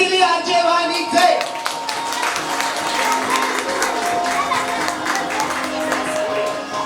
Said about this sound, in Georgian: აპლოდისმენტები მეგობრებო ძალიან მაგარი ხმაურიანი ენერგიული